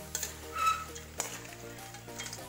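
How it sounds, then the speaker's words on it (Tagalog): Banana chips frying in oil while a utensil stirs them, a soft steady sizzle broken by a few light scrapes and clicks against the pan, fairly quiet, with no voices. "Haluin lang ng maigi ang ating banana chips."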